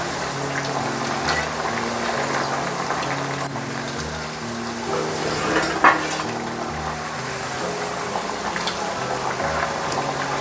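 Cabbage vadi frying in hot oil with a steady, close sizzle and bubbling, interrupted by a few brief stirring clinks.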